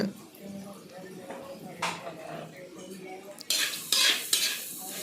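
A ladle stirs okra stir-fry in a pan, scraping and clinking against the metal over a soft sizzle, with sharper clatters toward the end.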